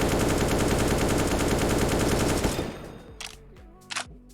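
Rapid automatic gunfire from the Counter-Strike: Global Offensive video game, a loud continuous burst of rounds lasting a few seconds, then stopping, followed by a couple of brief clicks and a short mechanical reload-like clatter.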